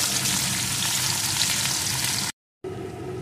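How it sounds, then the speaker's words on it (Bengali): Chopped onion fries in a pan of whole-spice tempering, making a loud, close, dense sizzle that cuts out briefly and returns slightly softer, with no talking. "পেঁয়াজ কুচিটা একটু ভেজে নেব।"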